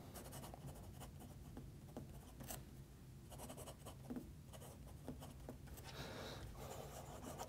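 A Platinum maki-e fountain pen with a medium 18 karat nib writing on paper, giving a soft, continuous scratch of nib strokes with small pauses between words, quiet and close.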